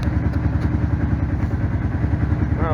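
A Kawasaki Prairie 700 ATV engine runs loudly up close without the choke, a steady rapid thumping idle with mechanical clatter.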